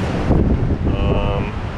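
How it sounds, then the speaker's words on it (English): Strong, near-storm wind on the French Riviera coast buffets the microphone with a loud, rushing roar; a faint voice and a brief tonal whistle sit underneath. "It's very windy. You could call it storm almost."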